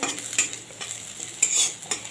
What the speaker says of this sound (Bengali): আদা পেঁয়াজ রসুনটা ভাজা ভাজা হয়ে গেছে